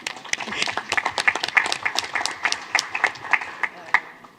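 A small group claps at a school board meeting, a short run of distinct, uneven handclaps close by, fading toward the end.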